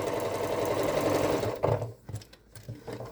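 Sewing machine stitching the cuff of a Christmas stocking, a close, quiet rapid motor buzz with fast needle clatter that runs steadily, then breaks into a few short stop-start bursts.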